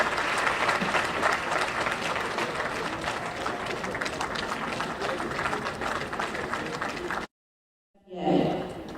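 Audience clapping at a Nigerian political event, steady dense applause filling the room for about seven seconds before cutting off abruptly, then a brief burst of crowd noise.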